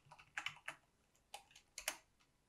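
Keys clack on a computer keyboard in short quiet bursts of a few strokes each, with pauses between them, faint and close with no speech.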